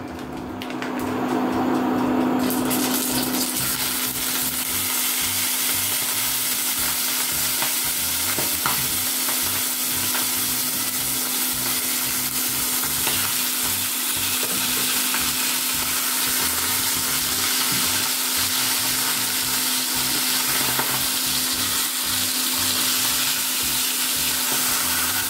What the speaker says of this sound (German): So, ich mache die Bratwurst jetzt in die Pfanne rein.